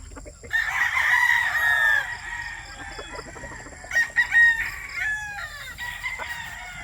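A bulayo gamecock with a straight comb crows loud and close, two drawn-out calls a few seconds apart, with soft clucking between them.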